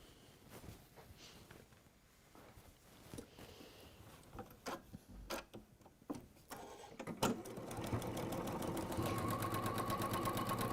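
Sewing machine starting up after scattered clicks and handling noises, then running in a steady buzzing stitch for the last few seconds, fairly quiet and close.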